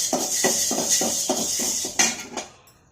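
Black urad dal roasting in a metal pan, stirred with a utensil that scrapes and clinks against the pan in a quick regular rhythm, about eight strokes, close and clear, then fading away.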